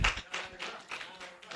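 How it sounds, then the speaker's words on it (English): Students at a humanitarian outreach event clapping for themselves, a brief patter of handclaps in loose bursts at moderate loudness, with a faint voice in the background. "we can clap for ourselves for that"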